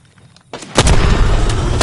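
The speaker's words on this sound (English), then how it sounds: "Getting shot at." Gunfire in the shooter Apex Legends on PS4: after a brief quiet lull, a loud blast erupts into a dense, sustained roar of close shooting.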